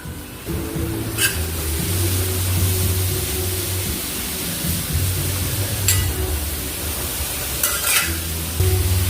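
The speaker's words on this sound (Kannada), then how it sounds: "ಇದೀಗ ತುಪ್ಪದಲ್ಲಿ ಚೆನ್ನಾಗಿ ಬೇಯಬೇಕು." Grated carrot cooks in ghee in a pan for carrot halwa, a soft steady sizzle with low stirring scrapes and a few sharp clinks of a utensil against the pan.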